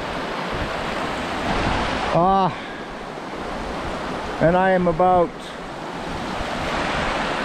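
Steady broadband rush of flowing water from Keithley Creek in the Cariboo, continuous and fairly close, with a voice speaking briefly over it twice.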